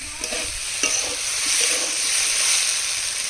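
Fish and potatoes stir-fry in a pan with a loud, even sizzle, a few spatula scrapes and knocks sounding early on before the hiss swells and holds steady.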